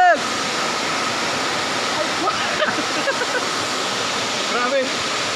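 Aliw Falls in Luisiana, Laguna roars with strong rushing water, a loud, dense, unbroken hiss close by, with a few brief voices calling over it.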